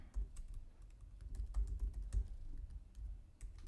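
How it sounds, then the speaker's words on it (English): Keys clatter on a computer keyboard in quick, irregular bursts with short pauses, close and moderately loud, with no talking. "Start typing like this."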